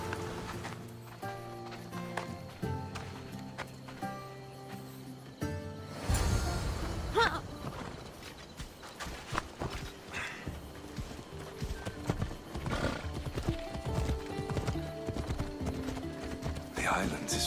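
Horse hooves while riding in Assassin's Creed Odyssey, a rhythmic clip-clop of a galloping mount, steady and close, running beneath spoken dialogue and background music for most of the stretch.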